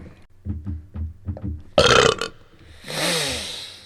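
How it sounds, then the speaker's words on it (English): A long, loud burp rings out after a few soft rhythmic knocks, then a breathy rush trails off at the end. "Burp is on point."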